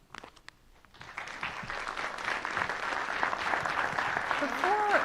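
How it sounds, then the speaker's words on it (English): Audience applause at a school district town hall meeting in Downingtown, starting with a few scattered claps and swelling into steady, dense clapping from a sizable crowd, with a voice speaking faintly near the end. "I'm wondering if we could hold our applause till the end"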